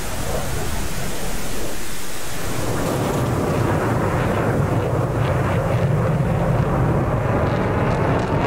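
A propeller or jet aircraft engine in the DCS flight simulator drones as a steady, loud broadband roar that stays constant throughout, with no speech over it.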